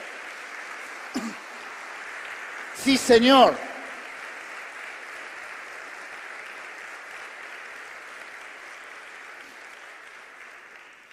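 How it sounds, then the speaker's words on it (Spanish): A church congregation applauds steadily at a worship service, a continuous wash of clapping lasting throughout, briefly interrupted by a voice calling out near the start and slowly thinning toward the end. "Dale un aplauso."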